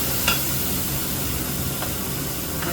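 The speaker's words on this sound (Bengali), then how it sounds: "এই যে টমেটো পিউরি দিয়ে দিচ্ছি" Two tablespoons of tomato puree go into a hot pan for a raw jackfruit kofta curry, giving a steady loud sizzle and hiss with faint stirring scrapes and no talk.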